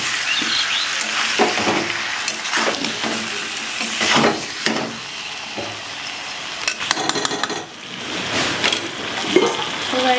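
Chicken curry being stirred and fried in a pan, with a steady sizzle and repeated scraping strokes of a spoon against the pan, plus a few brief clinks near the end.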